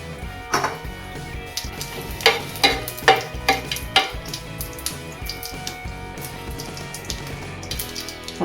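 Dried red chilies and cumin seeds crackle and sizzle in hot oil in a home kitchen while a fish pulusu is being made. A steady close sizzle runs throughout, with a cluster of sharp spluttering pops and stirring scrapes in the middle.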